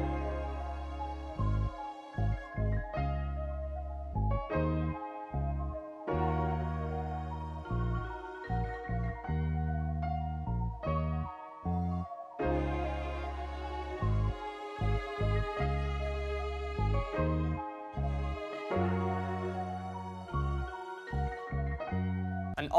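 Layered string sections in a soul sample play a chopped, looping melodic phrase with sustained chords and rhythmic stabs, steady and full throughout with no talking.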